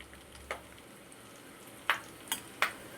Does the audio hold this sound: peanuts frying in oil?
yes